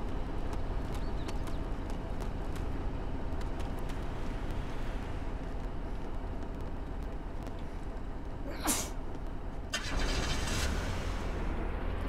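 A car engine in the Arma 2 wasteland mod hums as a low, steady rumble throughout, with a brief sharp noise near the end and the engine tone swelling slightly afterward.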